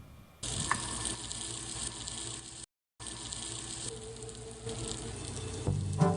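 Banana-peel burger patties fry in hot oil in a frying pan, giving a steady, close, hissing sizzle that cuts out briefly partway through, then returns and grows a little louder near the end.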